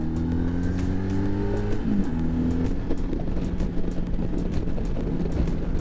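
A Honda Magna motorcycle pulls away, its engine note rising in stepped revs with a gear change partway through, close and loud under steady wind buffeting.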